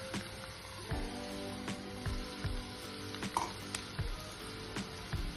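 Bitter gourd dropping into a pan of fried onion and spices, with a low steady sizzle and repeated soft clacks of a spoon stirring against the pan.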